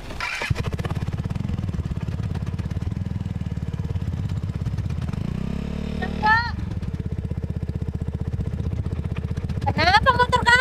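A motorcycle engine that will not start properly sputters and chugs steadily, dips and surges in pitch partway through, then rattles louder at the end, with brief voices over it.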